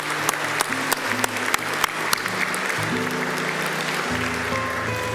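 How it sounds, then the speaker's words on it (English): A graduation ceremony crowd at CÉGEP Heritage College applauds the Early Childhood Care and Education and Electronics graduates with sustained, fairly loud clapping, a few sharp individual claps popping out while steady tones hum underneath. "Let's applaud our Early Childhood Care and Education Program and Electronics Program graduates"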